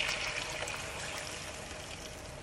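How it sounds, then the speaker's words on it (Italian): A beer and spice mixture is poured into a pan of browned chicken wings, making a steady, continuous liquid stream with a gentle sizzle throughout. "Quando le alette saranno rosolate, versiamo il composto di birra e spezie."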